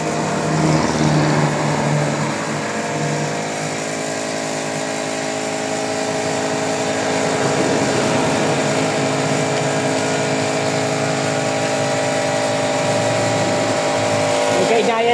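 An air compressor powering a fully automatic foaming machine runs loud and steady with a mechanical hum and whine, continuous throughout, while a voice talks over it.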